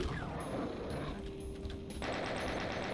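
A chaingunner enemy in Doom fires its chaingun, a fast mechanical rattling burst that cuts off partway through and then resumes, loud and close, with no talk.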